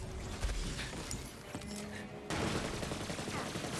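Shock-element weapon firing in Borderlands 3, rapid bursts of gunfire mixed with game effects, growing louder and denser partway through.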